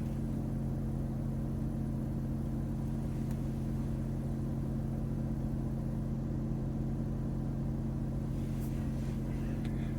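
A gasoline car idles with the windows up, heard from inside the cabin as a quiet, steady low hum and rumble that stays constant throughout with no revving.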